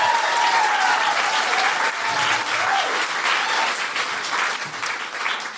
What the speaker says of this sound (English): please put your hands together. Start clapping.